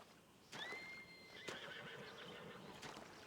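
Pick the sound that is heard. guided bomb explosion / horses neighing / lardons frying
horses neighing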